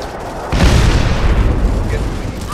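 Air strike explosions in the mobile shooter game Modern Combat 5, a sudden loud boom that rolls into a sustained rumbling blast, with a player's voice over it.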